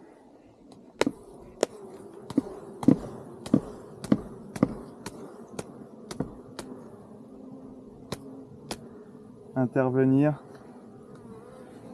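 Honeybees hum in a steady low drone around an open hive during a routine inspection. Sharp, regular clicks and taps from handling the frames punctuate the buzzing, and a person speaks briefly near the end.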